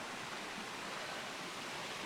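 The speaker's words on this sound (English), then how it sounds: "God, the river is so gorgeous." A river on a smallholding flows with a steady, soft broadband rush of water, faint and unbroken.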